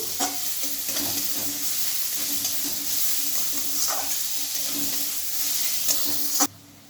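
Ginger-garlic paste frying in a pan over low heat while being stirred, a steady close sizzle with scraping strokes of the spoon throughout, cutting off sharply near the end.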